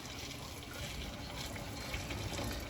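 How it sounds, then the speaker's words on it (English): Boiling water poured steadily from a kettle into a cooking pot while making rice and beef stew, a continuous close splashing gush that stays even and fairly loud for the whole stretch, with no talking. "Okay, so now I got my boiling water right here."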